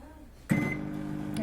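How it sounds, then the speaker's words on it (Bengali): A microwave-style oven baking a mug cake starts up with a click and then runs with a steady, close electrical hum and drone. "এটাকে দিয়ে দিচ্ছি ওভেনে।"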